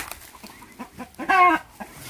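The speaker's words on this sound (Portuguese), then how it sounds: "As galinhas caipiras." Free-range chickens cluck close by in a few short bursts, with one louder, longer call standing out near the middle.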